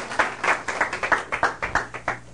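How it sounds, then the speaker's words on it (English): A small group claps at a climate change school event, with sharp, fairly regular claps close by over a couple of seconds and no voices. "I think they deserve also applause, please."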